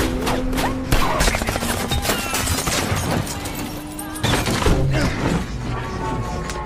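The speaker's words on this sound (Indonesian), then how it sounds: "John yang semula menyetir bertukar posisi dengan Jen dan mulai melepaskan tembakan balasan" Dense bursts of gunfire crackle and thump rapidly over a busy, loud action-movie soundscape with impacts and shattering.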